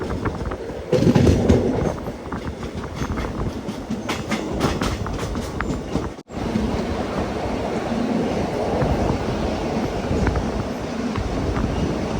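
Express train running on rails between Tirunavaya and Shoranur in Kerala, a steady loud rumble with rhythmic clatter heard from inside the carriage, alone without voices and with a brief dropout midway.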